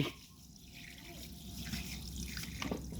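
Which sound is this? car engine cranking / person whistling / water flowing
water flowing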